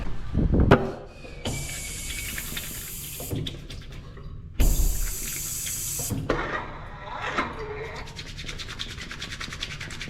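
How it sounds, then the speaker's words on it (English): Hands being washed under a running tap in a restaurant restroom, a steady rush of water with rubbing and splashing that cuts off and restarts, ending in a broad hiss, with no talk. "I need to wash my hands first."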